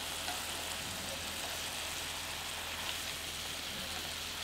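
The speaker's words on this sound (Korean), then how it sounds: "이렇게 물을 조금 넣고 볶아야 시래기가 또 질기지 않아요" Dried radish greens sizzle and crackle in a pan while being stir-fried after a little water has been added. The hiss is soft and continuous throughout, with no voices over it.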